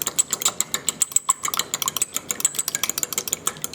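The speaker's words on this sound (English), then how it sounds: "I crack it into a bowl. Yummy. And we're going to whisk it." A cracked egg whisked in a bowl, heard as a fast, steady run of close, crisp clicking strokes against the bowl with no talking.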